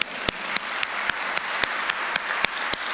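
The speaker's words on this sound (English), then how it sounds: "I think that's worth a round of applause as well" Applause at a fire training academy graduation ceremony, with steady clapping throughout and about ten sharper, evenly spaced claps standing out above the wash.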